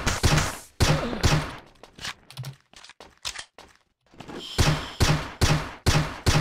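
Rapid bursts of gunfire in the WW2 shooter game Overdose WW2 on PC, loud repeated volleys of shots separated by brief pauses, with a quieter stretch of scattered impacts in the middle.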